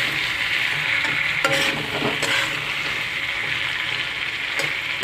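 Spices and chopped green chili sautéing in a pan, giving a dense continuous sizzle with a few soft stirring scrapes and knocks throughout.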